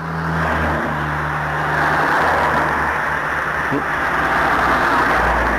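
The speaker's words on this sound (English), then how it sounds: "I have to hold off with the chat a bit because of the noise of the traffic" Road traffic near Lochearnhead in Glen Ogle, Scotland, heard as a steady, loud broadband roar of passing cars that holds for the whole stretch, with no voices.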